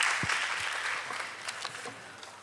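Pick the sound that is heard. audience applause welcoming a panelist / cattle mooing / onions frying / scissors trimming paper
audience applause welcoming a panelist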